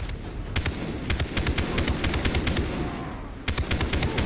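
Rapid automatic gunfire in Far Cry 3, sustained bursts of closely spaced shots running nearly the whole time with a short gap before a final burst, loud and close.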